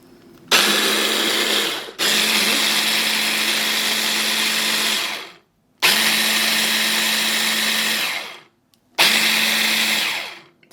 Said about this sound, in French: j'ai mis la moitié de mes bananes avec la moitié de mon lait végétal et je vais mixer